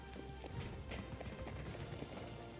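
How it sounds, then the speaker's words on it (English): Footsteps in Battlefield 2042, a quiet run of rapid thudding steps with clattering hits under a dense game background, no voices. "I hear footsteps."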